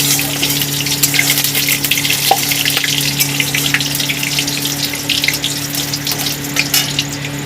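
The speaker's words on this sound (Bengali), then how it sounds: "দেড় চামচের মতো কালো জিরে দিয়ে দিয়েছি এখানে নিয়েছি দুটো শুকনো লঙ্কা নিয়ে আমি একটু নেড়ে নেব" Black cumin and two dried chillies fry in hot oil and get stirred, making a loud, steady sizzle close by with a low background hum and no talking.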